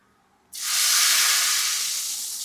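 Mustard seeds splutter in hot oil, bursting into a sudden loud sizzling hiss that holds steady and slowly eases off.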